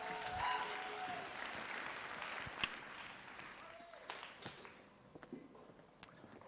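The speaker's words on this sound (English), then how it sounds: "A big round of applause," Audience applause fills a room at a Brighton SEO conference talk, a broad wash of clapping that is loudest at the start and gradually thins and fades toward the end.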